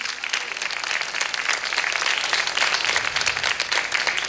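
Steady applause from a studio audience on a Turkish folk music TV show, dense, loud and even clapping sustained throughout without a break.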